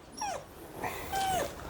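A rescue dog on a walk whimpers in a few thin, high whines, two longer cries with short yips between, fairly close against quiet outdoor background.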